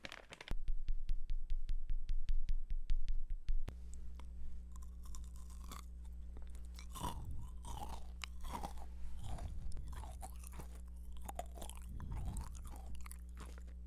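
Crunchy kohakuto jelly candy, crisp on the outside and jelly-soft inside, chewed close to the mic with a run of sharp, rapid crunches, then slower, softer chews and bites over a steady low hum.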